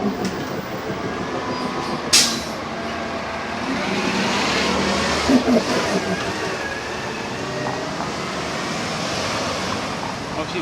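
City bus number 9 passing along a downtown Grand Rapids street on a summer evening, a broad rumbling swell that builds and holds through the middle amid steady street noise, with a sharp clank near the start.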